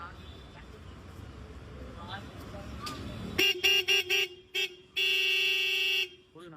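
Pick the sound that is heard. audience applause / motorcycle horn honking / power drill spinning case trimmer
motorcycle horn honking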